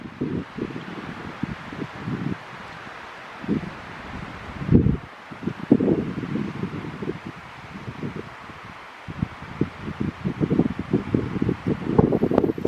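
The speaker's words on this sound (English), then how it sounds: "This is what it's like, borderline windy." Gusty wind buffets and rustles in uneven bursts on a forest road ride, rising and falling, with low rumbling gusts hitting the microphone.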